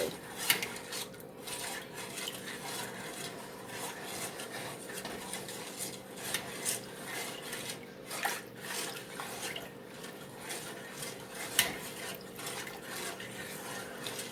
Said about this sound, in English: just keep stirring it, because if you don't, then the chocolate's gonna stick and it's gonna burn